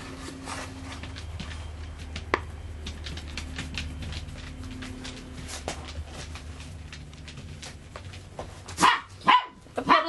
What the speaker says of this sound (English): I'm probably going to have to redo this because of puppy barking.